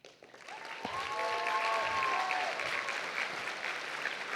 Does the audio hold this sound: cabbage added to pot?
no